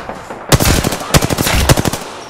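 Gunfire in Apex Legends: three loud bursts of rapid automatic shots, each a fast rattling string with short pauses between, close and dominant.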